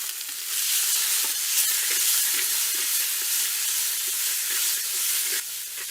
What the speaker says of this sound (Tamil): இப்ப 4 தக்காளிய பொடி பொடியா நறுக்கி சேர்த்துக்கலாம்.